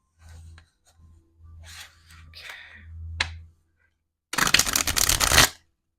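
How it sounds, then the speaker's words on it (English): Soft riffling and rubbing of cards in several short bursts, ending in a louder, rapid flurry of shuffling near the end. "Why can't I get a good shuffle?"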